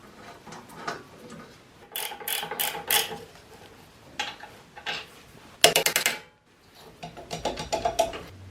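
A hand ratchet works on a seized brake caliper on a motorbike-engined off-road buggy, giving up-close bursts of rapid metallic clicking. Irregular pauses separate the bursts, with one louder sharp rattle partway through and no voices.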